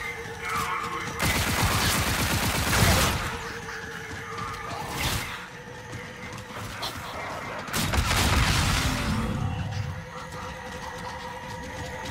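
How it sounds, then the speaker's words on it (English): A gas gun fires in the Call of Duty Spaceland game mode, producing bursts of dense rapid gunfire-like blasts in two main volleys over constant game background noise. "I'm gonna try to kill him with this gas gun right here."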